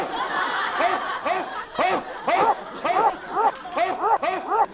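A voice imitates a dog barking, giving a run of short, rhythmic bark-like yelps close to the microphone, with laughter-like breathy sounds mixed in.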